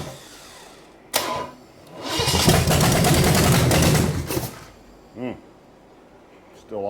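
A big block Chevy 454 engine that sat unused for 20 years, with the timing retarded and a faulty accelerator pump, cranks and tries to start in a loud, rough burst lasting a couple of seconds, framed by shorter clanks and thumps.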